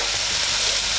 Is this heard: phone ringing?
no